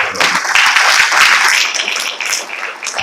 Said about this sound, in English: a big round of applause for our technology